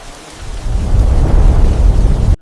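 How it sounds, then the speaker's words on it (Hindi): A loud storm effect for a midnight scene on the Yamuna bank: a deep rumble of thunder swells and rolls over steady heavy rain, close and filling the sound with no voices. "बिजली कड़क रही थी, वर्षा हो रही थी और यमुना किनारे हवाएं गूंज रही थी"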